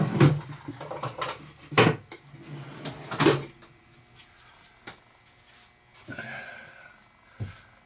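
A wooden drawer with cut finger holes is handled and lifted out of a box, giving several sharp woody knocks and scrapes in the first few seconds, then quieter clunks and a final thump.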